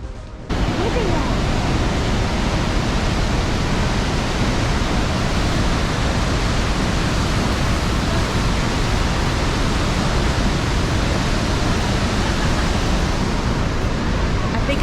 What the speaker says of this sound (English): Another great waterfall for Cindy's collection.